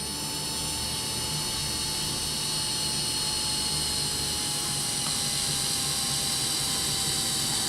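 A continuous high-pitched whine of a step drill bit cutting a 3/4 inch hole in a car roof holds steady for several seconds with no talk.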